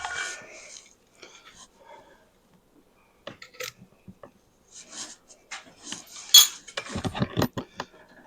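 A utensil scoops flesh out of smoked potato skins with scattered soft scrapes and light clinks, separated by quiet gaps, growing louder and busier near the end.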